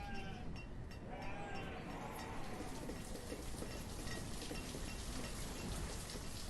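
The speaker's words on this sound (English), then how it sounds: "We're starting to get some more sheep going on too." Sheep bleat faintly in the village-building game Banished, a few soft calls rising over a constant rain-like ambient hiss that fills the background.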